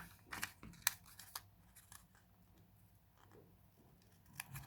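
Scissors cutting out paper triangles for a school geometry lesson, a few faint, crisp snips and rustles close by in a quiet room, with a last small cut near the end.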